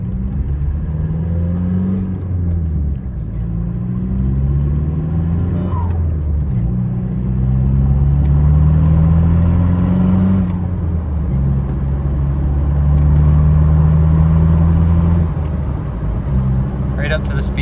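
A 2003 Volkswagen Golf 4 with the 1.9 TDI diesel pulls away from a stop and accelerates, the engine note climbing steadily through gear changes from inside the cabin, loud and close, with a voice talking over it at times.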